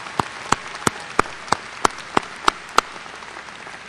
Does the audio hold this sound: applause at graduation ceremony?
yes